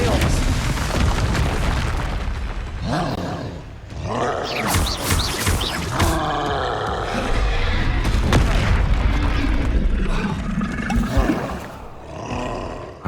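Spell effect being cast in Hogwarts Legacy on Xbox Series X: a loud, dense roaring burst with booming low rumbles and swirling bright magical whooshes, sustained for over ten seconds, with a game voice calling out over it.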